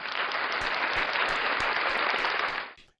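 A round of applause from a small group, steady and close, holding evenly before cutting off abruptly near the end.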